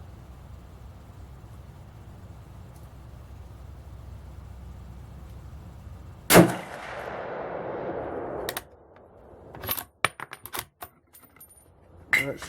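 A .308 rifle fires a soft point round at a pizza pan target, giving one sharp, loud shot with a brief ringing tail, followed by several quick clicks and clatters from handling the rifle nearby.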